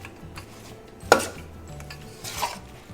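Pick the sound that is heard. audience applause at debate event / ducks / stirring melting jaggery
stirring melting jaggery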